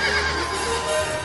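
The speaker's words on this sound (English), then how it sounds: "And horses. Lots of horses." Horses neigh in a sound effect, a loud whinny over faint hoof clip-clop in one short burst.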